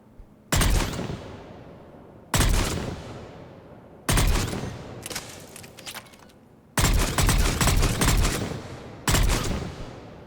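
A Valkyrie rifle fires at mid-range in Mass Effect 3. Five loud, close shots or short bursts come spaced a few seconds apart, each with a rolling echoing decay that fades before the next.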